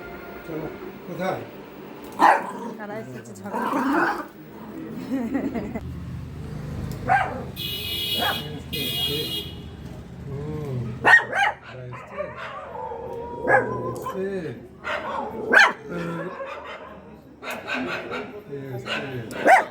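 Dogs in a neighbourhood street let out several sharp barks and yips in short bursts, close by, mixed with people talking and a brief passing vehicle.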